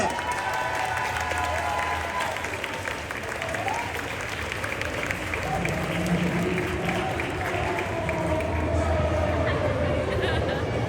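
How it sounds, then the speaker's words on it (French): Convention crowd at the Paris Manga & Sci-Fi Show applauding actor Manu Bennett during a panel, a thick continuous roar of clapping with cheering and whoops rising over it, sustained and loud throughout. "je vous demande un tonnerre d'applaudissements pour notre Spartacus, Manu Bennett"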